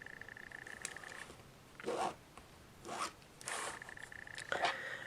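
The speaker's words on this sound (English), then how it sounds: "we're going to start by drawing lines on the back of these fabric G squares from corner to corner" A marker dragged in rasping strokes across fabric squares for quilting, drawing corner-to-corner lines: four or five separate scratchy swipes, each about half a second long, close and moderately loud in a quiet room with a faint steady tone.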